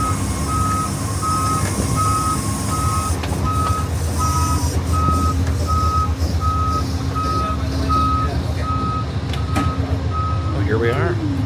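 Steady reversing beeps from a service vehicle at a Union Station train platform in Los Angeles, evenly spaced and repeating over a constant truck engine rumble and ambient station noise.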